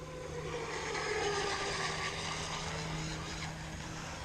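A Whiplash 20 RC hydroplane boat runs on water during a test run, its motor giving a steady, continuous droning whine over water and wind noise for several seconds, with no voices.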